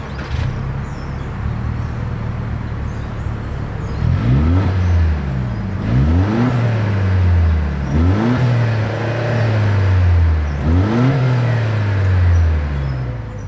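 A 2025 Toyota 4Runner, sixth generation, revs its engine through the exhaust in four distinct bursts, each rising and falling, close and loud over a steady idle.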